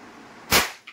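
A single sharp crack of a small toy pistol firing a cap, loud and close, followed by a faint brief echo.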